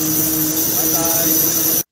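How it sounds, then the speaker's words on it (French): An airplane's jet engine roars steadily overhead for nearly two seconds in Mayotte, a broad continuous hiss and rumble with a high whine, loud and unbroken until it cuts off abruptly. "Oh, ça peut être un avion."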